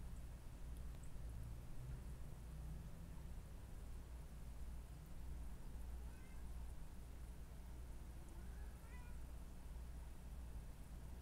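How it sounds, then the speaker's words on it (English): A whiny kitten meows faintly a few times, short thin cries rising over a steady, loud wash of background noise. "with a very whiny kitten"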